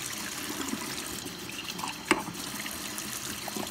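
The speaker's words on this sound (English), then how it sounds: "Pour water in here," Water trickles and pours steadily through a coffee filter at low volume, a soft continuous liquid flow with one brief louder splash or clink midway.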